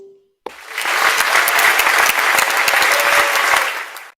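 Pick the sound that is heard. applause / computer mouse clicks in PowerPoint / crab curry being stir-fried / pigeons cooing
applause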